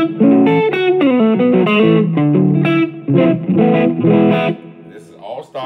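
Clean electric guitar tones played through a Line 6 Helix or Kemper Stage amp modeller, a continuous run of bright picked single notes and chords at a loud, close level, ringing out and trailing off near the end.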